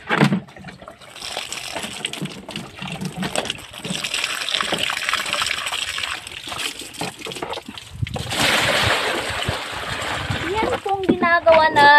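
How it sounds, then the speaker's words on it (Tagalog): Water being poured and pumped into containers during chores on a hot, rainy day in the Philippines, with steady gushing and splashing throughout, a louder surge of pouring near the end, and a person talking over it. "Ginagawa natin, salin-salin sa tubig, ipon, salin, bumba."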